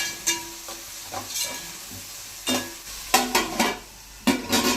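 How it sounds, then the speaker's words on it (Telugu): Onions frying in oil for a fish curry, a soft sizzle under irregular bursts of spoon scraping and stirring against the pan, close and moderately quiet. "ఈ ఆనియన్స్ ఎంత మంచిగా ఫ్రై అయితే కూర అంత టేస్ట్గా అనిపిస్తున్నాను"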